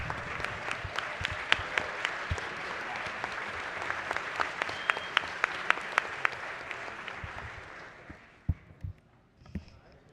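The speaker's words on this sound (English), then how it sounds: "would you please help me in giving them a big round of applause?" Applause in a legislative chamber during a house floor session, many hands clapping with distinct sharp claps standing out, building briefly then dying away into a few scattered claps and murmuring voices.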